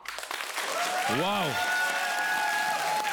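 Studio audience applause for comedian Roman Yunusov at a comedy game show, a sustained loud clapping wash under an exclamation from a voice and a swooping musical sound effect, then continuing with a steady music tone.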